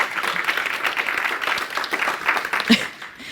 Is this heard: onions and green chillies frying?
no